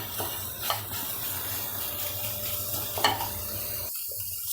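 Grated bottle gourd for halwa being sautéed and stirred in a pan, a soft continuous sizzle with occasional scraping clicks, ending in a brief near-silence.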